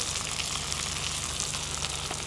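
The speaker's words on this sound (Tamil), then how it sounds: "அந்த எண்ணெயில் இந்த எடுத்து வச்சுருக்கிற கடுகு வெந்தயம் சீரகத்தை போட்டுருவோம்" Mustard seeds, fenugreek and cumin sizzling in hot oil for a Tamil dry fish and brinjal curry, a steady loud crackling fry with no pauses.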